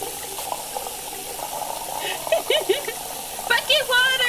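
Water runs steadily from a sink tap in the Cooking Simulator video game, a continuous hiss that grows louder and splashier near the end while a person talks over it.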